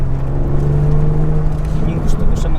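A car engine, likely a Lexus RX 350, hums steadily with a low drone as the accelerator is pressed, building slightly in a sustained whir, with people talking over it.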